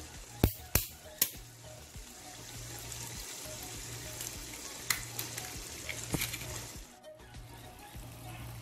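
Eggs for a Turkish omelette fry in a pan with a continuous moderate sizzle, punctuated by a few sharp taps and clinks near the start and middle.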